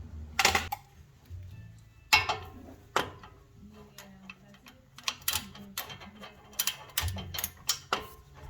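Ratchet wrench tightening ball joint bolts on a 2013 Honda Crosstour, irregular bursts of sharp clicking and metallic clatter with quiet gaps between, close up.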